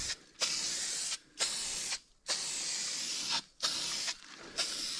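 Spray primer hisses onto a welded car fender patch panel in five or six loud bursts of about half a second to a second each, separated by brief pauses, close up with no talking.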